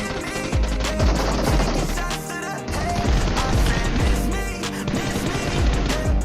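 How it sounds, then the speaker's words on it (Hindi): Loud rapid gunfire in steady bursts in a video game, heavy bass thumps repeating under a dense layer of game music and effects. "तुरंत गोलियां लगने चालू होती हैं"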